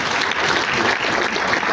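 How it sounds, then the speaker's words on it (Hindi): An audience at a Safe Shop business seminar in India breaks into dense, sustained applause, loud and continuous from start to finish. "नटराज सार के जबरदस्त ताली होना चाहिए"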